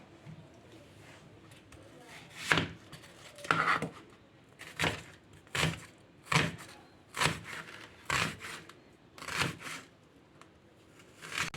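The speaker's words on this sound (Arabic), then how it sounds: "نخرط بقى كده كمية من البصل حلوة" A knife chops onions and vegetables on a board in about ten evenly spaced, crisp strokes, close and fairly loud over a quiet background.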